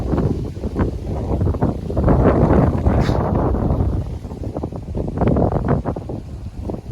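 Strong wind blows across an open scenic spot near Muthuvara in Thrissur after rain, making a steady, loud rumbling buffet against the microphone that swells and eases with gusts.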